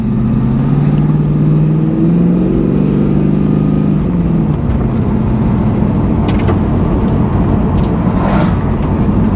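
Pontiac Trans Am WS6 driven down a road, its engine a loud, steady drone that climbs in pitch through the first seconds as the car accelerates, then settles into a broad rumble with some road noise.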